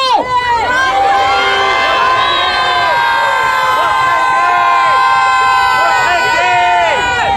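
A large crowd of protesting arts and entertainment workers shouts and cheers loudly all at once, a dense roar of overlapping voices and whoops close by at a street demonstration.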